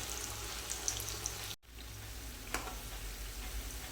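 Spiced bakarwadi rolls dipped in cornflour batter frying in hot oil, a faint, soft bubbling sizzle with a brief gap and a light clink, quiet throughout.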